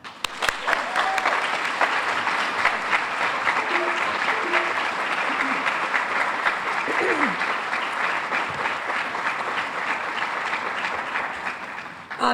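Audience applause welcoming Chicago Mayor Lori Lightfoot at the 9th annual City of Chicago vendor fair: steady, dense clapping from a large crowd holding an even level for about twelve seconds.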